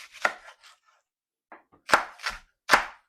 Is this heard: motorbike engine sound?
no